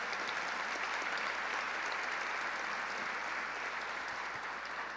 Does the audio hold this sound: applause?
yes